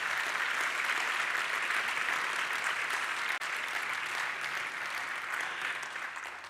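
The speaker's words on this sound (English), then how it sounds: "Let's give them another round of applause for that beautiful performance." Sustained audience applause following a choir performance at an international conference opening event, a dense steady roar of many hands filling the room, loud throughout and tapering slightly at the end.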